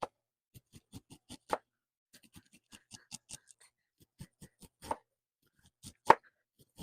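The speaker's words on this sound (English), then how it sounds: "cutting the corn off of the cobs" Cooked corn kernels being sliced off the cobs with a knife, a quiet series of sharp irregular cuts and taps against a board with no talking.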